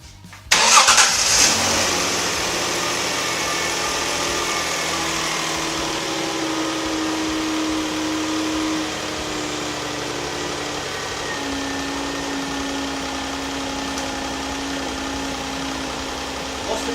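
A Ford Capri V6 cranks over and catches, rising briefly before settling into a steady, close, loud idle that continues throughout with a slight dip partway.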